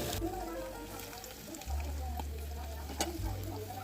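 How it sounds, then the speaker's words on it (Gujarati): Onions sauté in a pan for a homemade pizza topping, giving a steady, quiet sizzle with occasional soft stirring clicks and a low background hum. "હવે આપણે ડુંગળી સાતળવા મૂકી દઈશું"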